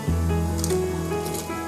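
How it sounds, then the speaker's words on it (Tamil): Soaked rice being slowly tipped into boiling water in a pot for chicken dum biryani, a soft wet pouring and squishing over a steady rolling bubble, close and continuous, with no talk. "பொறுமையாக இந்த கொதிச்ச தண்ணியில் சேர்க்கலாம்."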